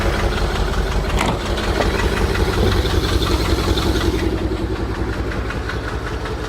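A Rolls-Royce engine with SU carburettors idles on its fuel pump, a loud, close, steady low rumble with an even pulsing beat and no voices over it.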